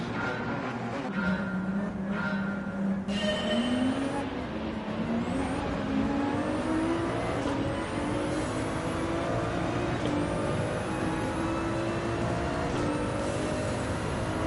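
Race cars, including a Lamborghini Huracán and Porsches, run in the Gran Turismo 7 video game: continuous engine roar with rising pitch as the cars accelerate and shift through gears, loud and sustained throughout.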